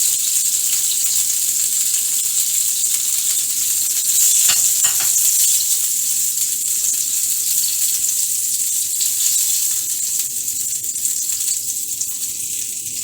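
Zucchini batter with flour, onion, pepper, salt and egg frying in a hot pan, a loud steady hissing sizzle heard up close, with no one talking.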